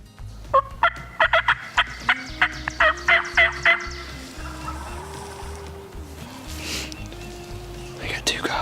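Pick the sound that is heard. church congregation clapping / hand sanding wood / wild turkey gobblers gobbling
wild turkey gobblers gobbling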